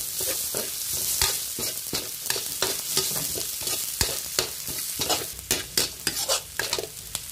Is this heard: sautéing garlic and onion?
yes